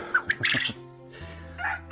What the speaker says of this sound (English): being called by the roosters